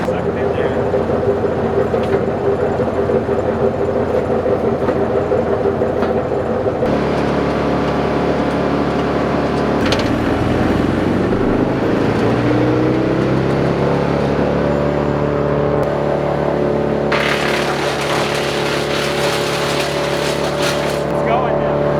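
A wood chipper engine runs loudly and steadily, its pitch dropping and then climbing as wood is fed in, with a burst of harsh grinding toward the end and people talking nearby.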